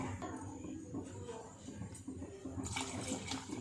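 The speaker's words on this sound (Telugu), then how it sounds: "సేమ్ అదే కప్తో 2 కప్స్ వాటర్ పోసుకోవాలన్నమాట" Two cups of water are poured into a cooking pot for a cucumber curry, a steady splashing gush that runs throughout at a moderate, close level.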